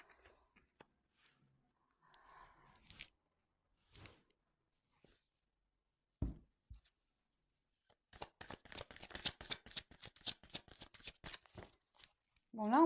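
Tarot cards handled and drawn from a deck: scattered soft taps and slides, then a long, rapid riffle of crisp flicks up close, with brief voice sounds in between.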